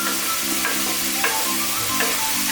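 Onion with ginger, garlic and green chilli sautés in a pan, giving a loud, even sizzle with a few faint stirring scrapes, close and without talk.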